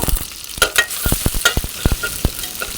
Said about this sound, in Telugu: ఇప్పుడు నేను ఇంకా తాలింపు పెట్టేస్తున్నాను